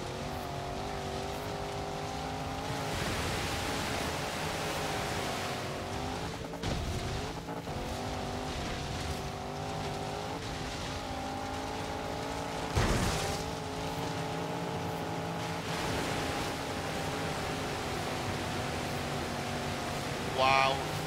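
A Jeep SRT8 in Forza Horizon 3 drifts with a steady droning engine note and a long hiss of sliding tires, a sustained roar that holds for the whole stretch with brief shifts in pitch.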